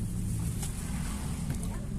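A refrigerator compressor rigged as a vacuum pump for a bubble remover hums low and steady right after being plugged in, a constant near drone with no breaks.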